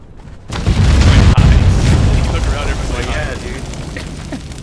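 Bombs detonate inside a pyramid room in the video game Conan Exiles, a loud sudden boom followed by a long rumbling roar of collapse, with players talking over it.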